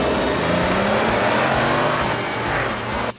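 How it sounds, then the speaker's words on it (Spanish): Renault Twingo GT Renault Sport with a sporty exhaust, its engine revving loudly and continuously close by before cutting off abruptly at the end. "el sistema de escape que hacen que el Twingo tenga un sonido atractivo y deportivo"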